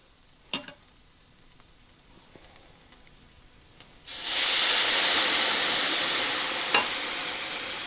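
Carnitas sauce poured into a hot pan to deglaze it, a sudden loud hissing sizzle that bursts in after a few quiet taps and then holds steady, no talk.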